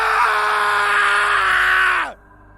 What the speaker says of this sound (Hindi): फिर चीख।